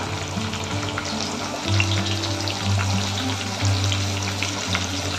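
Onion tossed into hot oil with whole spices sizzles loudly and continuously in a close pan, with a steady frying hiss and occasional stirring surges, no talk.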